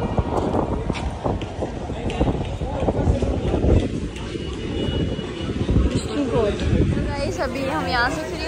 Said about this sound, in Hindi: आज हवा चल रही है भयंकर वाली, देख सकते हो खतरनाक हवा चल रही है।